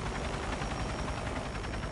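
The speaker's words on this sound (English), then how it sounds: "What's up with, the helicopters following my ass?" Steady, loud rotor drone with a rhythmic chopping pulse, continuous throughout with no voices, like a helicopter flying close overhead, in the video game The Crew.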